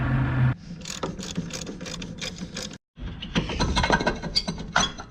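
A ratchet clicks rapidly in quick bursts while a brake caliper comes off a Nissan 350Z during a hydraulic handbrake install, loud and close, broken by one brief pause before the rapid clicking starts again.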